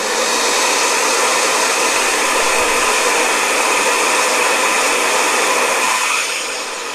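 Blow dryer aimed at a wet watercolor painting, a loud steady whirring roar of fan and rushing air that holds constant for several seconds before easing down near the end.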